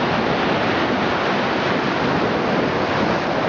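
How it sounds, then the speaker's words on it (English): Tsunami surge flooding into Kahaluu Bay and over the reef during the March 2011 event, a constant loud rushing roar of water mixed with wind buffeting the microphone, steady throughout. "There's a tsunami coming in. Now it's filling the reef up."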